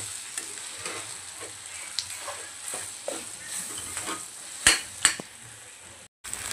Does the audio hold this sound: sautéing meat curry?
yes